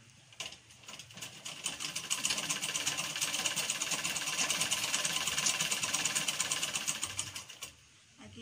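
A home sewing machine runs steadily for several seconds as fabric is stitched, a continuous mechanical whir with rapid needle clatter, close and moderately loud, starting and stopping at the edges.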